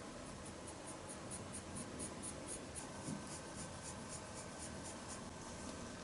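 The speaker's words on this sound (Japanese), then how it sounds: "色鉛筆で輪郭を整えていきます。" Colored pencil scratching steadily over a pastel drawing of a beach and watermelon, a soft, continuous papery rasp with short repeated strokes, close and quiet, with no talking.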